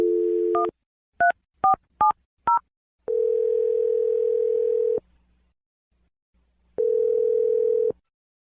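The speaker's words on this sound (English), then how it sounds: "Let's dial the phone number right now." A telephone dial tone is interrupted by a quick series of touch-tone beeps, then a long steady tone returns twice with a pause between.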